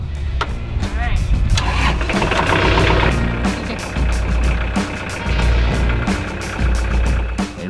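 A repaired tractor engine cranks and catches, then settles into a loud, uneven idle with knocking pulses, as people talk nearby.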